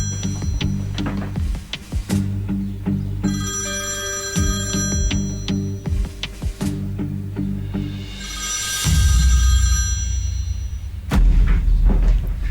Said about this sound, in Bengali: ফোনটা ধরতে হবে আমাকে।